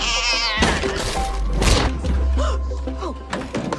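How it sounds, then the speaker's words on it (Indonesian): A black cat meows with a few bright yowls over a continuous backdrop of music and thumping effects, loud and close, with voices around it. "Tiba-tiba si kucing hitam muncul gangguin siaran Mo."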